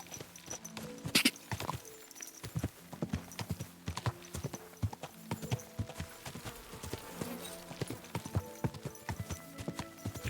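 Horse hooves clip-clopping at a steady walking rhythm in Kingdom Come Deliverance 2, with a brief whinny early on and faint background ambience, fairly close and clear.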